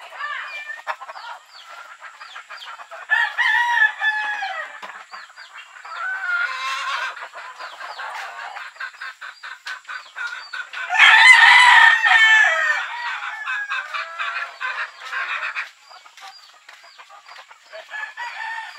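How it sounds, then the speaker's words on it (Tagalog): Chickens cluck busily close by while a rooster crows loudly partway through, amid scattered chirps and a second crow later on. "Retsada, ang dami manok."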